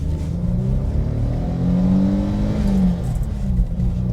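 Ford Granada Scorpio 4x4 with a 2.8-litre Cologne V6 revving up, the engine note climbing and holding steady around the middle before settling back, loud and close with no talk.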